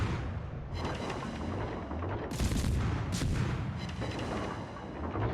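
Warship guns fire in a naval combat video game, a dense run of heavy booms and rumbling blasts rolling over one another, with sharper bright cracks near the middle and a continuous loud low roar throughout.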